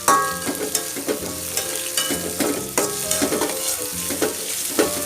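Garlic frying in a pan over low heat while being stirred, a steady close sizzle with scraping utensil strokes throughout and no talking.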